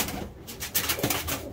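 Budapest Deres Goylak type pigeons coo in their coop, soft repeated throaty calls mixed with faint rustling and a brief flutter, close and quiet.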